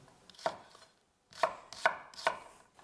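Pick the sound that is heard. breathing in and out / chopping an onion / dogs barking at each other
chopping an onion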